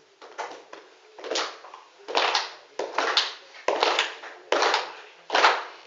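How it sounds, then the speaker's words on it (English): Traditional Nyahbinghi hand clapping performed at a banquet in Zomba when the chief is about to speak: seven or eight sharp, ordered bursts of group claps in a steady rhythm, close and fairly loud, with no talking. "when the chief wants to speak, we have our own kind of clapping hands"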